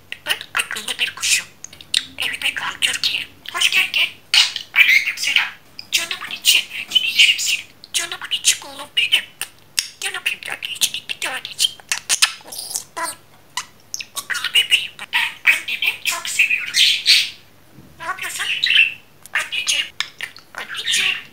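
A pet budgerigar chatters in a talking bird's rapid, squeaky mimicked speech, mixed with chirps and squawks, close and continuous throughout with only brief pauses.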